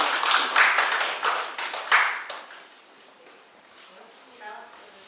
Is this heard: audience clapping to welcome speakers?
yes